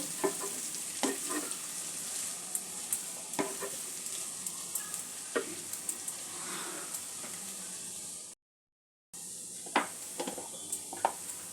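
Flattened rice (poha) and mixed vegetables sizzle steadily in a pan while a spatula scrapes and stirs, with sharp clicks and scrapes recurring every second or so and a brief gap of silence near the end.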